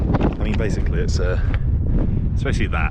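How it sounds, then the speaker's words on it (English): Heavy wind buffeting a microphone on a mountain summit, Mount Jōnen, a constant low roar under a person speaking close by. "Sorry about the wind."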